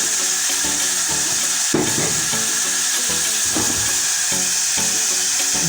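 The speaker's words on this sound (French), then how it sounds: "Voilà, ça commence à frémir." Lemongrass cough syrup for homemade cough drops starting to simmer in a pan on the heat, a steady close bubbling sizzle with soft stirring clatter, no talking.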